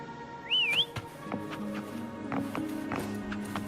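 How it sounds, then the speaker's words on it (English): A single bright, warbling whistle rises and wavers briefly to call Foam in the game Wuthering Waves, followed by soft footsteps and light clip-clopping movement in a quiet scene. "Why don't you call Foam over? Try whistling."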